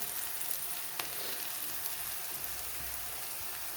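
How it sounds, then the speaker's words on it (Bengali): Ginger and green chilies frying lightly in a pan for homemade vegetable pasta, a faint, steady sizzle with a few soft crackles and no voices. "কাঁচা লঙ্কা হালকা ভেজে নেব।"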